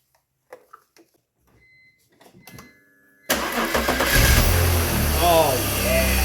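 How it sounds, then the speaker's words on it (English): A BMW E46 engine cranks, catches and then revs strongly after its ignition coils are swapped to cure a misfire. Quiet tinkering comes first, then the loud engine runs steadily with rising and falling revs as voices speak over it. "This engine now sounds way better. Rev her up, Jer."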